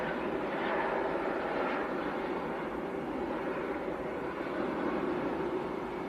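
An airliner arriving from Orlando at Manchester Airport, a steady broadband jet roar that holds at a constant level throughout, heard from a distance.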